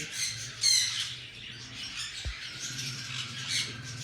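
Pet rump, rosella and ringneck parrots give a few faint, scattered squawks and chirps against a quiet indoor background.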